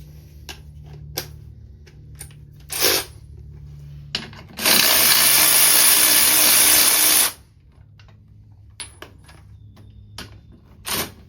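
A 2001 Polaris Xplorer 250 ATV being raised on a jack gives a loud, steady ratcheting burst of about three seconds, set between scattered sharp clicks and clanks from the workshop.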